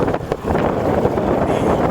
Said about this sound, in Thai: วันนี้ลมแรงมากนะครับ